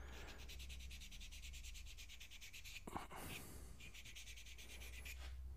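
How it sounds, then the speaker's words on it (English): Sanding a small nub off a wood-turned piece, rhythmic rubbing strokes in quick repeated passes, close and quiet, with a brief pause and a knock midway and no talking. "So we'll just sand it off."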